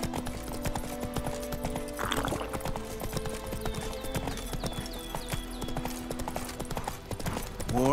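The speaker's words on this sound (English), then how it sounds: "Run, Roach" A horse gallops in The Witcher 3 video game, with rapid steady hoofbeats close up, a brief whinny partway through, and faint background game sounds.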